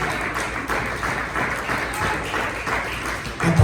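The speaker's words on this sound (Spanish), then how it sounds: "Dale una ofrenda de palmas al Señor." A church congregation clapping hands together as an offering to the Lord during a Bible study service, a dense sustained burst of applause filling the room, with voices mixed in.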